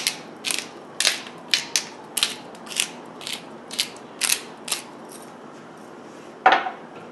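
A pepper grinder cranks over raw chicken for chicken cordon bleu, giving a run of about a dozen quick, crisp ratcheting bursts in an uneven rhythm, close and clear, followed by one louder clack at the end.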